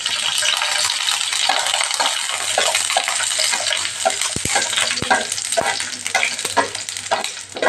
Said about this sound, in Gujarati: લસણની કળીને સાતળી લઈશું.